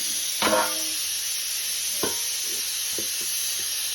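Dal sizzling steadily in a hot pan, a continuous bright fry hiss with a few soft scrapes and clicks as it is stirred and turned, close up and without talk.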